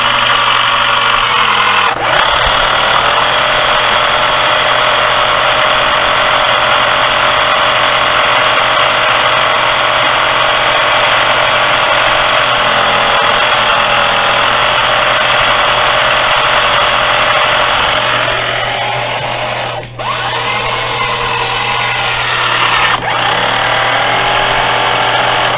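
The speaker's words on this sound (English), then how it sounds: "you hear it spinning very fast and get up to full power" A remote control car's electric motor spins at full power, a loud, steady, close whine that holds almost unbroken, dipping for a moment before climbing back up.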